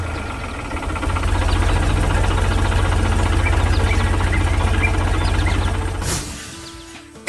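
A farm tractor engine rumbles steadily and loudly for about six seconds with a deep, even drone, then cuts away to a quieter tail.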